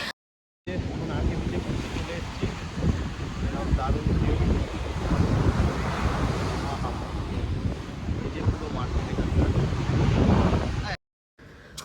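Sea waves on the beach at Vizag in the evening, a continuous broad roar of surf mixed with heavy wind rumbling across the microphone, steady and loud throughout.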